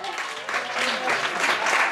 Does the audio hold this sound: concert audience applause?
yes